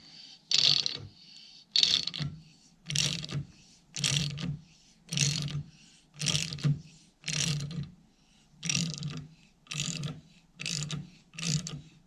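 A 3/4 inch wrench loosening the crankshaft nut on a 1959 Triumph T20 Tiger Cub, giving about ten evenly spaced bursts of metallic ratcheting clicks, close and fairly quiet, with short silent gaps between strokes.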